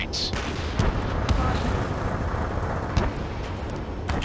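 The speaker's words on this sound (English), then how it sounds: "Gunfire and the roar of jets echoing through the streets." A city under martial law in the video game Ace Combat 7 fills with a constant heavy roar of jets, broken by sharp bursts and thuds of gunfire, with a voice speaking over it.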